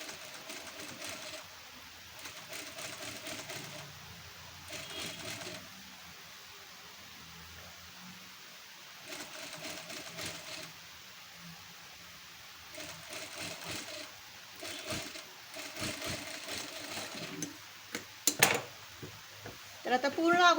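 Sewing machine topstitching a boatneck collar, several short whirring bursts of rapid stitching separated by quiet pauses, close up, with someone talking between runs and some handling clatter near the end.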